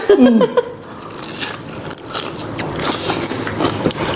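Crunchy bites of fresh raw vegetables eaten with large boiled shellfish and spicy seafood dipping sauce, a few crisp crunches up close at the start, then softer chewing and mouth noises.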